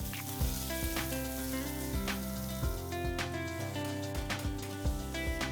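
Chopped onions and dried red chillies fry in a pan with a steady, dense sizzle, while tonal background music plays continuously underneath.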